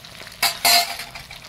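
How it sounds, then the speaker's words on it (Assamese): Two quick scraping stirs of food with coriander in a hot pan, with a soft sizzle of frying underneath, close and brief. "এতিয়া ধুনীয়াকৈ এইখিনি লৰাই এইখিনি ভাজি ল'ম"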